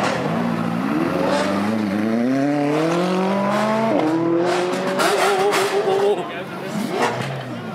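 Three Lamborghini Aventadors leave a busy car meet, their V12 engines revving in rising, falling sweeps up close. The loud, steady roar carries over a noisy crowd.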